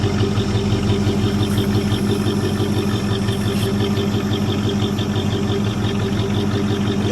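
A 1984 Chevrolet Suburban engine idles steadily after a cold start following three years unused, a loud, even low rumble with a constant rhythmic throb that holds throughout.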